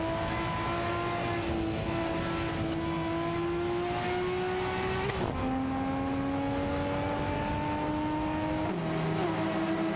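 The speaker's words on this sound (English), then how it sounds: "It's a battle between a Porsche 928 GTS and a Mercedes-Benz SL 500 for that coveted position." Porsche 928 GTS and Mercedes-Benz SL 500 race cars in a racing game, engines droning steadily with rising pitch through gear changes, a dip near the middle as one shifts, loud and continuous with no talking.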